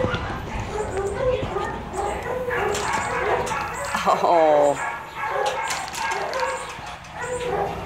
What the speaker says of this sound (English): Oh, big dogs.